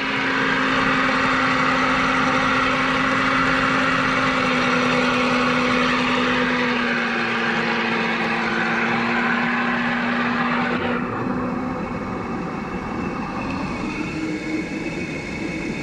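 After rain, a micro hydro turbine spins back up with a loud, continuous mechanical whir and rushing water. A steady low hum holds for most of the clip, then the pitch shifts and part of the sound drops away near the end.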